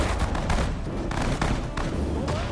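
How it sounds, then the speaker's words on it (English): Dense battle gunfire from the Sudden Strike 4 strategy game: rapid overlapping shots and bursts with booming impacts, loud and continuous, with no pauses. "Plenty of gunfire, and we should be able to take out that position there."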